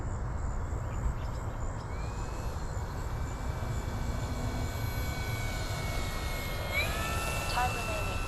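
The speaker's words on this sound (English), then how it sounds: "I'm going to do a slow flyby" An FMS PA-18 Super Cub 1700mm RC plane with landing flaps down makes a slow flyby over a runway, its electric motor a steady whine that rises and shifts in pitch as it passes near the end.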